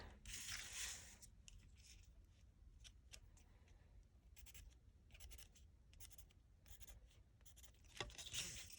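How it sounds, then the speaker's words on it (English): A pencil scratches short marks and strokes onto a quilting template. The faint, close scribbles come in brief bursts separated by quiet gaps. "So then go to your next side and make your pencil marks."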